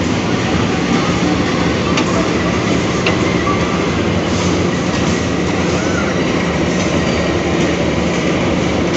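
The KA Serayu passenger train, hauled by a CC203 diesel locomotive, rolls steadily on the rails. It makes a loud, continuous rumble heard from inside the carriage with no letup.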